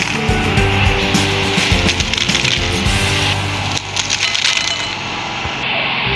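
Crispy fried potatoes for a chaat recipe are handled and dropped, giving a loud, dense, continuous crunching and rattling close up, with no talking.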